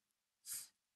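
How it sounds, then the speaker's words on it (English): A single short, breathy sneeze sounds faint and somewhat distant during a physics class lesson, rising and fading within half a second against near silence. "Sorry for that sneeze"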